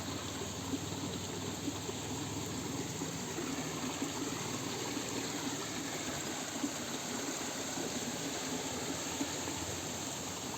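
Steady, continuous rushing of Cedar Creek flowing over rocks in the Tamborine rainforest, heard at a moderate distance with no voices.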